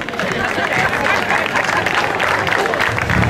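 Dense applause from a crowd at the 5th Slalom Città di Tiriolo motor race in Italy, steady and loud throughout with many overlapping claps, a faint murmur of voices underneath.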